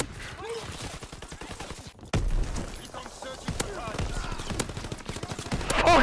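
Rapid bursts of shotgun fire in a first-person shooter game, repeated sharp blasts and clattering gunfire in quick succession, loud and close, with someone talking over the action.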